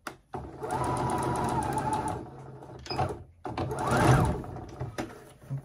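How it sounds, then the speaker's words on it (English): A sewing machine stitches a mermaid prom dress bodice in bursts, close rapid mechanical whirring runs broken by short pauses and handling clicks. "Let's go ahead and sew on all the bodice."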